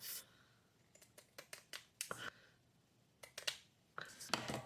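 Scissors cutting off a piece of fabric in a series of short, crisp snips, some quick clusters and longer gliding cuts, close and quiet with pauses between.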